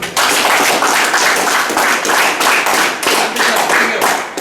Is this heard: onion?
no